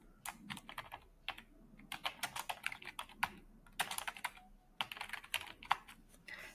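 Typing on a computer keyboard: rapid bursts of crisp key clicks in irregular clusters with brief pauses between, close and fairly quiet, with no talking.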